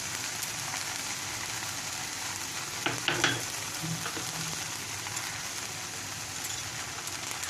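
Potato and cauliflower curry with Kashmiri red chilli sizzles and fries steadily in a pan, broadband crackle throughout with a few scraping stir strokes of a spoon midway.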